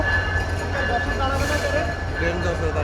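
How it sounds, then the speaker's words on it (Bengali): The Rupsi Bangla Express, train number 827 hauled by an American locomotive, rumbles past nearby with a steady low roar and rail noise, a brief hissing swell in the middle, while people talk over it. "এটা হচ্ছে আমেরিকান লোকোমোটিভ, ট্রেন নাম্বার 827 রূপসী বাংলা এক্সপ্রেস"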